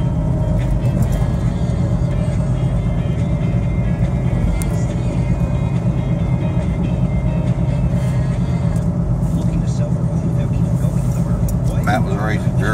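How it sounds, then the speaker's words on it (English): Car driving through a city, a loud continuous road rumble and engine drone from inside the vehicle, with talk over a radio running throughout. "Just shooting some video of the city here as we're driving around"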